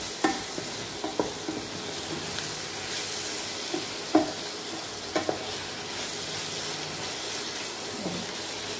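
Prawn curry masala fries quietly in a pan while being stirred, a soft sizzle punctuated by occasional spoon scrapes and taps against the pan.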